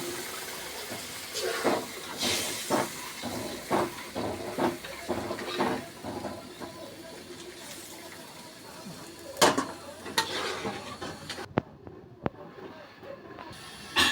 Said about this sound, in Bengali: আলু দিয়ে এখন গরম জল ঢেলে দিচ্ছি